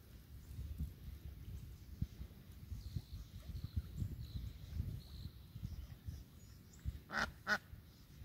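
Ducks quacking in a couple of short, fairly loud bursts near the end, over a steady low rumble of outdoor background noise, with no talking.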